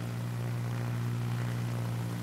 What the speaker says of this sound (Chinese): 飞机又经过了耶！